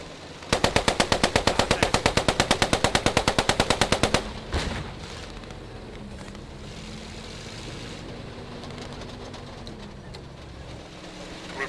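Machine gun fire in the WWII shooter game Post Scriptum: a sustained, rapid, evenly spaced burst of about three and a half seconds, then quieter ambient rumble with faint engine noise.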